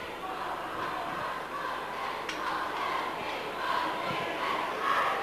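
Steady crowd murmur and roar fills a hurling stadium in Thurles during a 1987 All-Ireland Club semi-final between Borris-Ileigh and Ballycastle, a continuous distant wash of voices with slight swells and no single standout sound.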